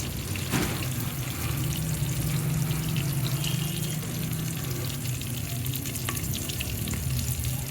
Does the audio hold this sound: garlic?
yes